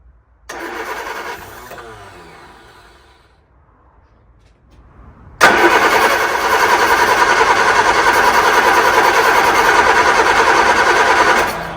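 A barn-find Vauxhall Viva with the choke pulled out cranks briefly, falls quiet, then fires and catches into a loud, steady idle that runs on close by, alone without talk.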